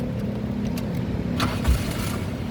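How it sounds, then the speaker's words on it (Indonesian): A 2002 Daihatsu Taruna 1.6 FX manual car engine cranks and catches, with a steady low motor hum broken by a couple of clicks and a brief bump as it starts, heard close with no talk. "Nah, ini kita coba nyalakan mobil ya."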